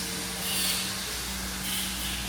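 Water sprays steadily from the nozzles of an automated Vaqua wet blast system, a loud, continuous broadband hiss with a low pump hum beneath it.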